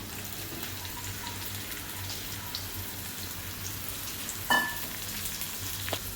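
Okra frying in hot oil with turmeric in a pan gives a soft, steady sizzle and crackle, fairly faint and close, with one brief louder clatter near the end and no voices.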